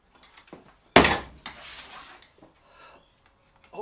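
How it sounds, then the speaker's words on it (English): Sand being knocked off steel castings during moulding sand reprocessing: one loud scraping, rasping impact, then a few softer rubbing scrapes and small knocks around it, close by with no talking. "Knock the worst of the sand off."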